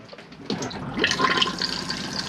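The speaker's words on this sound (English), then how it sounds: "So this blue button behind you would press, that's your flush." Motorhome cassette toilet in a Chausson First Line 630 flushed with its blue button from a freshwater feed, a steady close rush and gurgle of water filling the bowl that swells after a brief start and keeps running.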